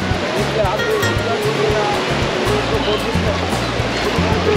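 Sea waves on Puri beach roll in with a steady, loud roaring wash of surf that fills the whole stretch, with no clear gaps between breakers.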